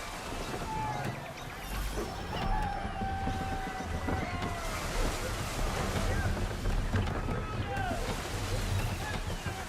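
A sailing ship under full sail in the Assassin's Creed III video game, with steady wind rush, creaking and sea waves throughout and occasional whistling tones, loud and continuous with no pauses.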